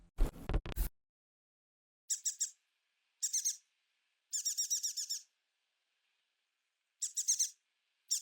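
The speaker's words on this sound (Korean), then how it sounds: "저는 일단 틀렸을 경우를 대비하여 까마귀 소리 하나를 준비하였습니다." A crow sound effect: a short harsh call opens, then silence broken by four clusters of rapid high chirping bursts, each crisp and separate.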